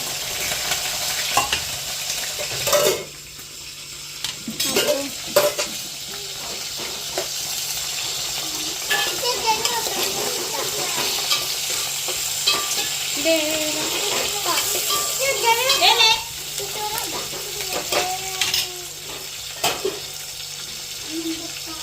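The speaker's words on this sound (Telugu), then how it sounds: "ఇప్పుడైతే ఆయిల్స్ ఆనియన్స్ వేసేసుకోవాలి" Onions and chilies fry in oil in a pan with a continuous sizzle, marked by occasional clatter and stirring. Voices talk over it, and there is some running-water noise.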